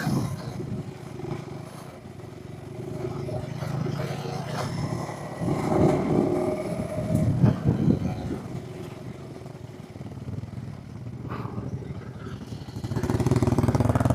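A motorcycle rides off from a homestay, its engine giving a steady, rough drone that swells and eases over the road with no break.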